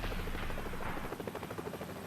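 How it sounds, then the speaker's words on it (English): A Marine One presidential helicopter of squadron HMX-1 at Quantico thumps with rapid rotor beats, faint and brief, against a rumbling wash of engine noise. "Quantico is home to the helicopters known as Marine One"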